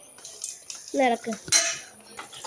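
A spoon stirring food in a pot, a few brief metallic scrapes and clinks up close, mixed with short bursts of voice.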